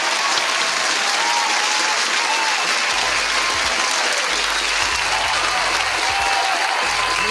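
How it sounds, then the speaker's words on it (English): A studio audience bursts into steady, sustained applause, loud and close, with some crowd noise mixed in, at the opening of a battle rap talk show. "Round of applause."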